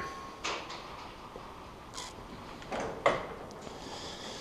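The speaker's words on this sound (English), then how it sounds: "the door opens" Quiet clicks and latch knocks as a storage locker door on an Adria Adora 612DT caravan is worked open, a few separate taps and a sharper clack near the end, with no speech.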